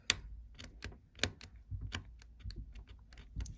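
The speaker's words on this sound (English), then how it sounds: "So you're going to use a razor blade and basically just cut" Razor blade slicing through the ends of scratch-built wooden model railroad ties, a string of sharp, crisp clicks and snaps in irregular rhythm, close up with no talking.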